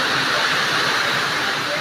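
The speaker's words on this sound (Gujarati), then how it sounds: "બહુ વરસાદ પડે છે" Heavy rain pours down on a street in town during a storm, a loud, constant rushing wash of water close by.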